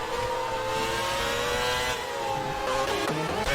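Engines of F1 race cars in the F1 2019 video game at Suzuka's Spoon curve, with a McLaren spinning out; a steady loud high engine whine that shifts in pitch near the end.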